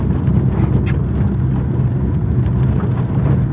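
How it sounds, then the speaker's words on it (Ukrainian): A ZAZ Tavria with loose steering and worn suspension creeps along slowly in first gear, its engine a steady, close, low rumbling drone that runs without a break. "Їдемо помаленьку на перший."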